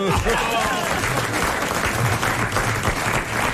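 A French TV studio audience applauds for Léon Zitrone, a steady wash of clapping with a faint hum beneath and voices mixed in.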